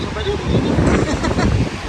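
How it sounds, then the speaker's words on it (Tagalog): Strong wind in Baler, Aurora, buffets the microphone in a loud, rumbling roar, with a voice faintly audible beneath the gusts. "Lakas ng hangin."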